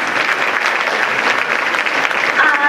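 Sustained clapping from a large audience at a Hispanic charismatic Catholic congress, loud and even throughout, with a faint voice briefly surfacing near the end.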